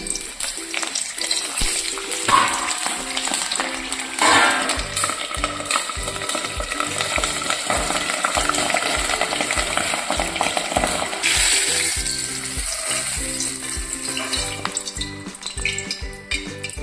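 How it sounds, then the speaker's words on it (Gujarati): Green chillies deep-fry in hot oil for a farali fasting thali, giving a steady, close bubbling sizzle with stirring and occasional clinks of a utensil against the pan; no one speaks. "હવે આપણે છેલ્લે મરચાં પણ તળી લઈશું."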